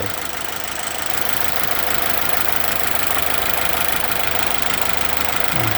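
A car engine idling before being switched off, heard during a lithium battery test: a steady, loud mid-pitched engine drone with constant vibration and no talk.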